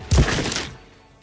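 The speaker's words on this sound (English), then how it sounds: "A heavy thud on the roof." A single heavy thud lands on a roof, a sharp low impact followed by a short rattling decay that fades within a second.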